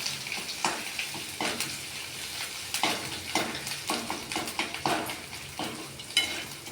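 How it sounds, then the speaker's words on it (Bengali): Chopped ginger and green chilli fry and hiss in hot oil while a utensil stirs them, giving a steady close sizzle broken by frequent scraping clinks against the pan, with no voice. "এগুলো আমি তেলে একটু নেড়ে নিলাম, আদাটা ভাজা ভাজা করে নিলাম"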